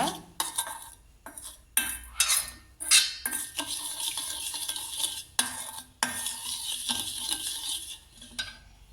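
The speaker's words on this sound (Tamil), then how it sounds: "உங்களுக்கு தேவையான அளவு தேங்காய் எண்ணெய் சேர்த்து இதை நல்லா மிக்ஸ் பண்ணிக்கோங்க" Coconut oil and other face pack ingredients are stirred and mixed in a bowl, giving steady scraping and clinking of a spoon against the bowl, with brief pauses between strokes.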